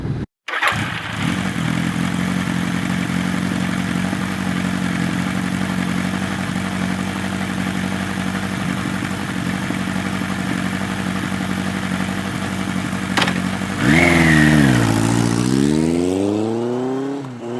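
A motorcycle rides along a nearly dry country road near Melle, its engine holding a steady loud drone from close by before revving up and down near the end.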